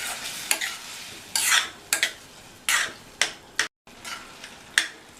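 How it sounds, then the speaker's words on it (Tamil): A utensil scrapes and clatters against a pan in repeated short strokes while a salted tomato dish is stirred, with a soft sizzle running underneath throughout. "சேர்த்துட்டு நல்லா கலந்து விட்டுறலாம்."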